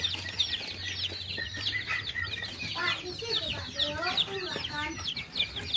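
Young chickens cluck and chirp steadily in a coop, a dense busy chorus of small birds heard close with a low steady hum underneath.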